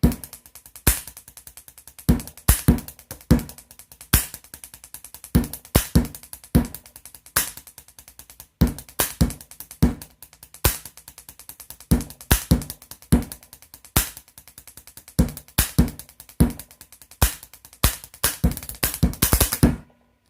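Sharp clicky taps of a pen striking a desk in a quick rhythmic beat, repeated in patterned bursts for about twenty seconds, close and fairly loud.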